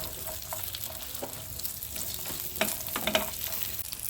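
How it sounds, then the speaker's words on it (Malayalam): Cashews and raisins frying in ghee make a soft, steady sizzle and crackle with a few faint stirring scrapes, quiet and without voices. "കുറച്ച് നെയ്യ് ഒഴിച്ച് ഞാനിതിൽ കുറച്ച് അണ്ടിപ്പരിപ്പ് മുന്തിരി ഇട്ട് കൊടുക്കുന്നുണ്ട്."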